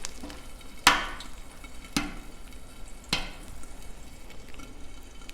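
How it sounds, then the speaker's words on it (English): An egg frying in bacon grease and oil on a Blackstone griddle, a low steady sizzle broken by three sharp spatula scrapes or taps about a second apart. "All right, so we got some bacon grease right over here, some oil. Let's get this egg going."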